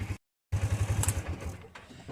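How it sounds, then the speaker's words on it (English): The engine of a Polaris RZR 570 side-by-side runs close by with a steady, low, throbbing idle pulse that carries on after a brief cut-out. "Let's give you a little bit of the engine."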